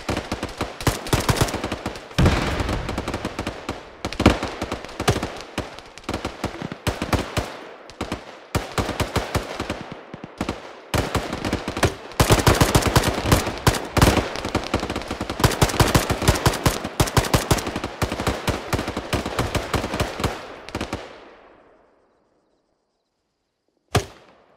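Rapid bursts of automatic gunfire and single shots from a hillside firefight in the military video game Arma 3, dense and loud for about twenty seconds, then fading out with one final shot.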